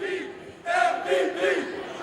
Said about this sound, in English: The crowd is chanting MVP for Arlis Sidlowski.